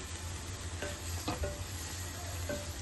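Small greens sautéing in a pan for a keerai poriyal: a steady soft sizzle with a few quiet stirring scrapes over a low hum, heard close and without voices.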